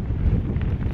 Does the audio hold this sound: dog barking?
no